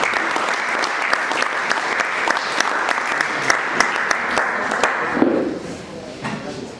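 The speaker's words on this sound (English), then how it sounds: "Please, can we give a round of applause as he comes?" Loud, sustained audience applause welcoming a speaker at a DevFest tech conference, a full wash of clapping with sharp individual claps on top that cuts off abruptly near the end, leaving quieter room sound.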